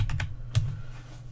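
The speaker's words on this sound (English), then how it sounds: "Let me use my keyboard." A few quick keystrokes on a computer keyboard, a couple of close, crisp clacks and then another, over low room hum.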